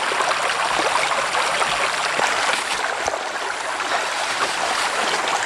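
A riverside stream flowing steadily, a dense continuous rush of water with light trickling detail, close and loud with no voices.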